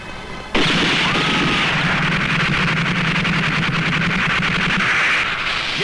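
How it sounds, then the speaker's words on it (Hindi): Dense, rapid pistol gunfire rattles on continuously for several seconds, loud and close, with a steady low rumble beneath the sharp reports. "अरे ये तो तमंचे की आवाज है भैया।"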